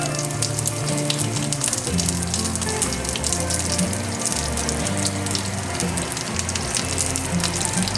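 Curry leaves and garlic crackle and sizzle in hot oil in a small pan, tempering for an eggplant lentil dal. The frying is dense and steady and close, with music playing underneath.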